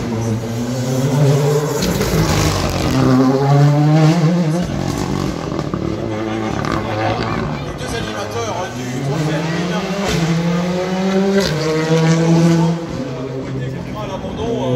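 A rally car races through a stage of the 2022 Rallye d'Antibes, its engine revving hard up and down through gears with loud rising and falling pitch, while a commentator talks over it throughout.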